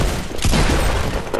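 Rapid gunfire in the Fortnite video game bursts loudly and continuously in a dense, close volley that fills the whole short moment.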